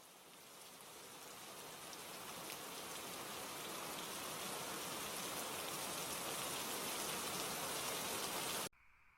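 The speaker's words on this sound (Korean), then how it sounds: "빗소리가 점점 거세지고" Rain falling steadily in a cave setting, a dense hiss of drops that builds gradually louder over several seconds before cutting off abruptly near the end.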